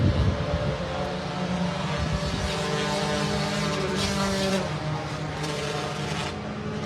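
A Group 5 Lambretta racing scooter engine in a live race at Pembrey: a steady, loud buzzing two-stroke drone that holds on continuously and eases off slightly near the end, with no voices.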